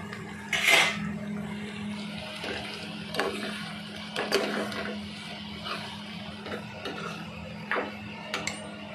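Fried okra for restaurant-style bhindi masala being tipped into a pan: a sharp clatter and scrape of food and utensil against metal at the start, then softer intermittent knocks and scrapes over a steady low hum, with no talking.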